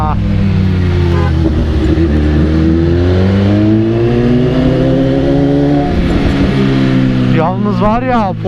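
A BMW S1000RR sport motorcycle engine revs and accelerates through city traffic, its loud, close, rising whine climbing through the gears with brief drops between shifts. A rider's voice comes through over the engine.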